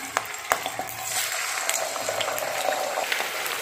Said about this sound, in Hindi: हमने कढ़ाई में अब ऑयल गर्म कर लिया है, इसमें वन बाई वन करके चिकन के पीसेस ऐड कर देंगे